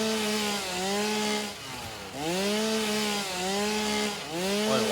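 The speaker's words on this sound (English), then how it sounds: "I need my chainsaw" A chainsaw in the factory-building video game Satisfactory buzzes loudly and steadily, its engine pitch dipping and swelling in several revving surges while it cuts, with no talk over it.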